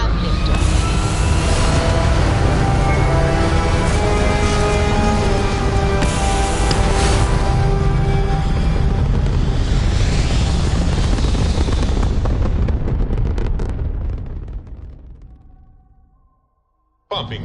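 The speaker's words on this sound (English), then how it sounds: "We have liftoff." A spaceship lifts off in the video game Starfield with a loud, steady engine roar that holds for about thirteen seconds, then fades away to near silence before a brief final sound.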